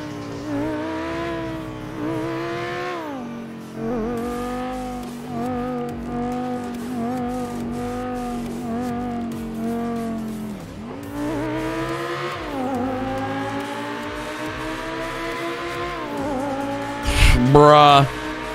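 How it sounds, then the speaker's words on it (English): An updated Audi accelerates through a tunnel, its engine note climbing again and again through the gears in loud, echoing surges, with a sharp burst near the end and voices faintly in the background. "Need to hear it accelerate in the tunnel."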